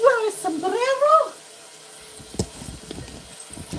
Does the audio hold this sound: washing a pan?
yes